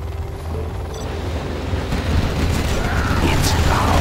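A Helix helicopter in C&C Generals: Zero Hour, a video game, flies by with a rising rotor chop and engine rumble, growing louder and closer, with faint mechanical clicks at the start.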